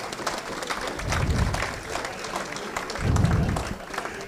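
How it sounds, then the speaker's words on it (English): An audience at an American Legion post story night breaks into applause, a dense wash of many hands clapping that swells and fades in two waves, heard close and without speech. "So let's give everybody a big hand."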